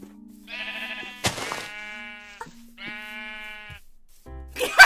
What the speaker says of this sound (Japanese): 羊羊羊、あ、待って、黒い羊じゃないあれ。